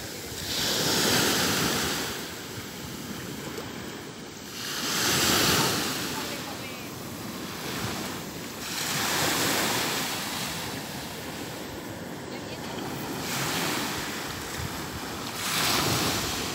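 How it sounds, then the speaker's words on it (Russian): Rough sea on a Spanish beach in summer, with waves surging and breaking in slow repeating swells every few seconds, wind gusting across the microphone and a steady roar of surf between crests. "Вот такое сегодня море."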